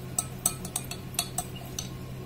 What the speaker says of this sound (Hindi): इसमें मैं 2 टेबल स्पून काला खट्टा सिरप डाल रही हूँ, जिसे मैं थोड़ा सा मिला रही हूँ।